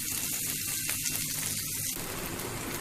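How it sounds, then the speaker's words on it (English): A dosa frying on a pan over medium-high heat gives a steady, close sizzle that carries on unbroken, with a brief bubbling crackle early on before settling into an even hiss. "And you need to cook it until you see the corners of the dosa brown."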